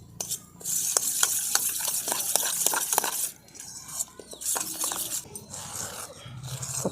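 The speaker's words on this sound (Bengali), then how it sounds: "প্রথমে চামচের সাহায্যে মেখে নিচ্ছি।" A spoon stirs and kneads a cup of flour with milk into soft bread dough in a bowl, producing quick, close, rhythmic scraping clicks that pause briefly and then resume.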